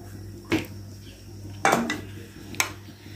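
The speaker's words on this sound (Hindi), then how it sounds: "तो पहले हम डाल देते हैं ऑयल कढ़ाई में।" A metal kadai (wok) and utensils in a home kitchen, while about a cup of oil goes in, give three distinct clanks spaced over a few seconds against a quiet background hum.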